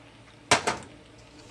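A spoon strikes a metal pot twice in quick succession while mozzarella is mixed into shrimp macaroni and cheese, two sharp, close clanks followed by quiet.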